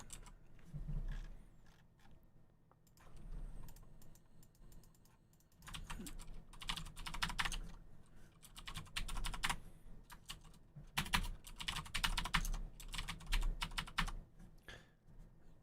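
Rapid, close tapping on a computer keyboard while a password is entered, dense runs of clicks coming in several bursts with brief gaps between them, no talking.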